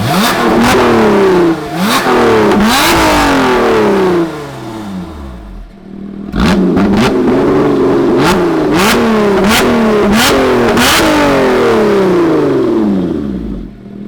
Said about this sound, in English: it tells you that the exhaust opens, and then it's loud all the time